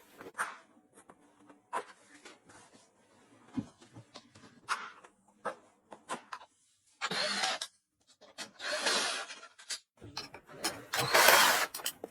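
A wrench works on the rear rack and tail-light area of a Zontes 150 motorcycle during a teardown, giving close, intermittent clicks and short scraping bursts with quiet gaps between them.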